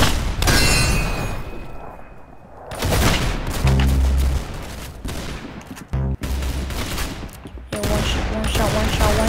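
Gunfire in the video game Arsenal, loud bursts and rapid volleys of game shots with booming impacts, repeated across the stretch over dense game audio.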